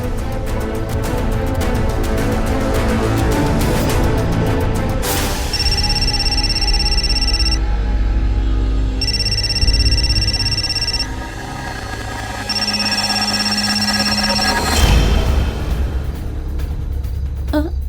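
A telephone rings on an outgoing call in repeated bursts of about two seconds with gaps between them, over a loud, steady background rumble.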